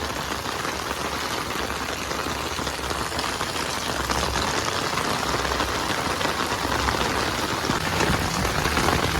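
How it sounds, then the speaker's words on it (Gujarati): Heavy rain pours down steadily in a dense, even hiss for the whole stretch, close and loud, with no voices over it. "વરસાદ ચાલુ છે"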